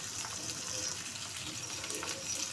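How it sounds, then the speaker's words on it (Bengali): Stinging catfish frying in a pan, a steady, even hiss of oil bubbling close by, constant and moderately quiet with no voices. "তা শিং মাছটা ভাজতে নিয়েছি"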